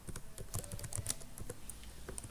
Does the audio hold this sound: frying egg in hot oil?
no